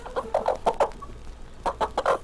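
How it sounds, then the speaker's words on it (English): A mother hen clucks a warning to her brood in a run of short, rhythmic clucks, a pause, then another quick burst, close and clear with no talking. "When the mother hen clucks her warning signal, the little chickens run to her for protection."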